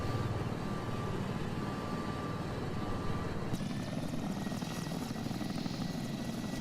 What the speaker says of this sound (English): Here's one of John Young's Canberras. Heading south again from the airfield.